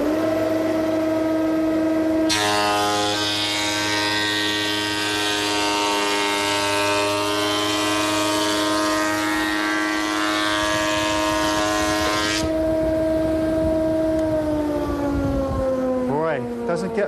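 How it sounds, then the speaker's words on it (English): A board feeds through a surface planer, the machine's loud steady whine rising into a harsh, bright roar for about ten seconds while the cut runs, then dropping back to the idling motor hum as it spins down. "As I start to feed the board into the planer, I want to push down on that crown so that it goes under the in-feed roller"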